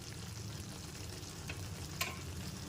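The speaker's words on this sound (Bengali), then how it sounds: "গরম মশলা গুঁড়োটা দেওয়ার পর খুব ভালো মতো একবার মিশিয়ে নিচ্ছে" Chicken kosha gravy with garam masala powder sizzles steadily in a pan while a utensil stirs it, giving a continuous frying hiss with a couple of faint scraping clinks.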